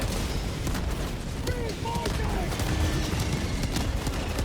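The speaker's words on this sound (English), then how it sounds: "All I hear is explosions right now." Dense crackling gunfire and booming blasts rumble continuously in the video game Helldivers 2, a chaotic battle din of explosions and shots layered over each other.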